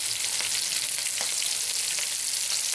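Bits of meat fat frying in a pan, a dense steady sizzle with occasional small pops and crackles, loud and close with no talking.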